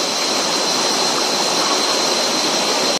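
A river stream flows through jungle on Koh Samui, a loud, close, continuous rushing of water that holds steady throughout and cuts off at the end, with no voices.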